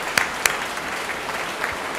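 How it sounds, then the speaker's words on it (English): Audience applause at a forum on green screen production, a soft, steady patter of many hands with two sharper close claps near the start, fairly quiet overall. "Big applause."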